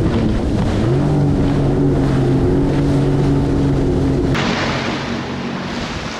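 A Sea-Doo personal watercraft engine drones steadily while running on open water, loud and close with constant wind and water rush, its pitch holding steady before shifting slightly near the end.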